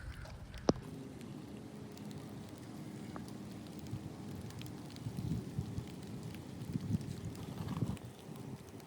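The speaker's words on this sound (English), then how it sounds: "And the rain's even coming down even more." Rain falling outdoors in wet woodland conditions, a soft steady patter of drops on surfaces with scattered louder taps and one sharp knock near the start, faint and continuous.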